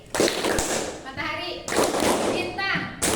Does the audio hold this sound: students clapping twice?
yes